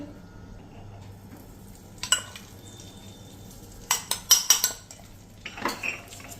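A spoon mixing a ragi mixture with ghee in a bowl, giving a few isolated clinks followed by a quick cluster of sharp metal taps and scrapes against the bowl, close and otherwise quiet.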